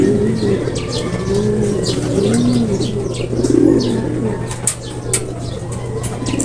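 Racing pigeons arriving home together at a loft, close soft cooing and chirps mixed with brief wing flaps and scattered clicks over a low steady hum, with no talk.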